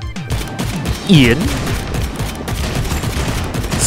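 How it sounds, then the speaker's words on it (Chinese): Video game gunfire bursts out in short rapid volleys, including one sharp, louder blast, beneath a voice talking over the action. "枪声"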